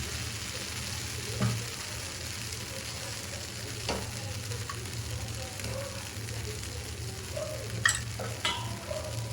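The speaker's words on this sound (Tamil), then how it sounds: "இப்போ நம்ம தோசை ஊற்றி பார்த்துக்கலாம். இப்போ நம்ம தோசை கல் வச்சுருக்கோம்." Millet (samai) idli batter poured onto a hot dosa griddle gives a steady, moderate sizzle with a low hum underneath and a few brief clinks and taps, with no talking.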